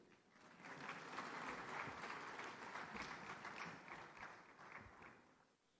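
Hall full of conference delegates clapping, a dense, even patter of many hands rising quickly, holding for several seconds and tapering off, heard from a distance at low level.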